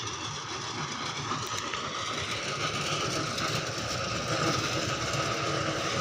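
Mahindra 655 tractor hauling a heavily loaded trolley, a continuous close rumbling engine drone with steady rattling, unchanging in level throughout.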